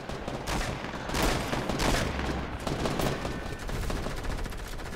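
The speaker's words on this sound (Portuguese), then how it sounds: "Os caras estão atirando." Rapid gunfire in the mobile version of Fortnite, bursts of automatic shots overlapping with dense crackling reports, loud and continuous across the whole stretch, no voices.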